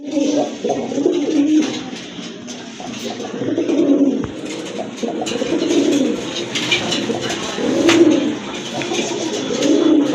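Pigeons coo repeatedly in soft, rounded phrases of a few seconds each, close by, with faint bird chirps and background rustle between calls, at a pigeon seller's.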